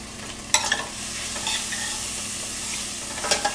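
Hot chili powder stirred around a hot frying pan, a steady soft sizzle with a few sharp scraping clinks of the utensil near the start and end.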